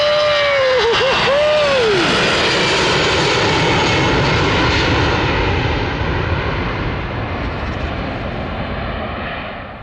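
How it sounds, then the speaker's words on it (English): An EasyJet passenger jet passes overhead with a loud, steady broadband roar that fills the whole stretch and fades slightly toward the end. "We got another plane coming,"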